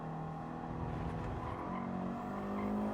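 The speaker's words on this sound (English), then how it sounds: "3rd gear really bogged down again then." A race car engine in Gran Turismo 7 drones in third gear, and its pitch sags as the engine bogs down. The sound is fairly quiet and continuous, with no talking.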